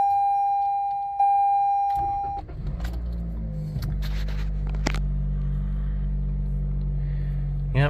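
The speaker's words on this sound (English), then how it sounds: "nothing like a good old cold start in the morning" A rental car does a cold start in the morning: a chime tone comes first, then the engine cranks and catches around two seconds and settles into a loud, steady low idle with some clicks on top.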